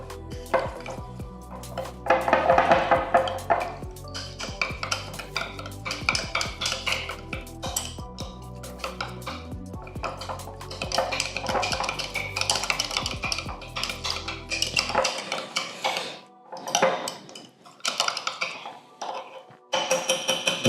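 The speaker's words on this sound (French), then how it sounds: "tu prends une cuillère. La technique ici, c'est de touiller un peu," A spoon clinks and scrapes against a dish while stirring chia seed pudding, with repeated metallic taps and scraping through a long stretch, sometimes busier and sometimes sparse.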